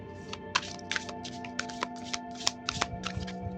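Tarot cards are shuffled by hand in a quick series of soft riffling flicks and slaps, close and fairly quiet, over a steady tonal background.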